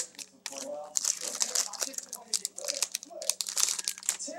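A trading card pack's foil wrapper is torn and crinkled open up close, sharp irregular rustling bursts, with a faint voice murmuring in places.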